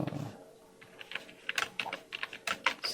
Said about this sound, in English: you can type a message